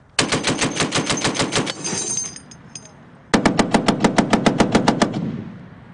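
M2 .50 caliber heavy machine gun firing two long bursts of rapid, evenly spaced loud shots, close and sharp, with a short pause between bursts and echoing decay at the end.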